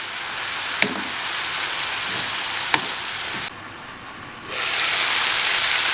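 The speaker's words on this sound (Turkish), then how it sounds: "Ara ara karıştırarak domatesler yumuşayana kadar kavuralım." Green tomatoes and vegetables fry in a pan, giving a steady close sizzle. Two sharp utensil taps against the pan mark the stirring, and the frying dips briefly before returning at full strength.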